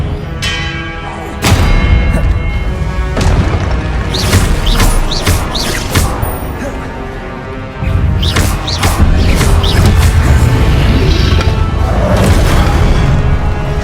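Confringo and Expelliarmus spells fire during a Hogwarts Legacy duel, loud booming blasts and crashing impacts with ringing, bell-like tones that repeat through a dense, continuous battle din.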